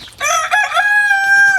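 A rooster crows loudly and close by, one long, strained call held steadily to the end, with no talking.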